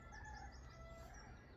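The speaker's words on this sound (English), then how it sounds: "can hear local cockerel there crowing away" A local cockerel crows at a distance outdoors near allotments, faint over steady background hum and ambient noise, with no talk.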